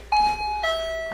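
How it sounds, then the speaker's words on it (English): A motion sensor doorbell chime sounds at a doorway in a funeral home: two clear, loud electronic tones ring one after the other, the second slightly lower, with no voices. "I will literally get a doorbell sound"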